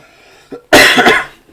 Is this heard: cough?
yes